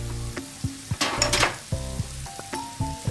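Chopped vegetables for a Turkish-style vegetable omelette sizzle steadily in a frying pan, a close, continuous fry under a sharper burst of crackle, with music running underneath.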